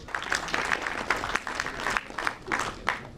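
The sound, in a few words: audience applause at a welcome ceremony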